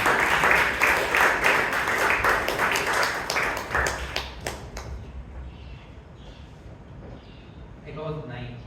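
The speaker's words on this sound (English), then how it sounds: "Give him a huge round of applause." An audience at a Toastmasters club meeting in Bangalore gives a burst of applause, loud at first and then dying away, with a speaker's voice continuing afterward.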